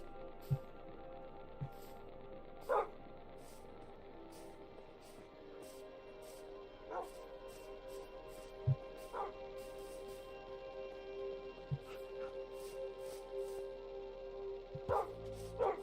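Dogs barking in the farming video game Farmopolis, short separate yips and barks scattered across the clip over a steady hum of game ambience and music.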